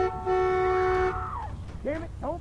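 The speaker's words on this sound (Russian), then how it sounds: "Может так просто побибикать?" A car horn blares steadily for about a second in The Walking Dead video game, loud and close, then fades as a voice starts talking over the background game noise.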